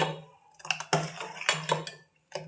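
A spoon knocks and scrapes against the inside of a vessel while melon juice is stirred, giving sharp clinking strikes at an irregular rhythm, close and clear, separated by brief quiet gaps.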